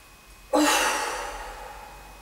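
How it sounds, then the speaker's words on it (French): One deep breath drawn during a stress-relief breathing exercise, a sudden loud inhale that fades slowly into a long airy tail, close and alone. "vous allez vider vos poumons en soufflant bien pour pouvoir prendre une plus grande inspiration"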